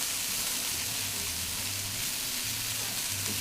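Food caramelizes in a hot pan at a beaver cook-off, giving a dense, continuous sizzle that stays loud and close throughout with no talking.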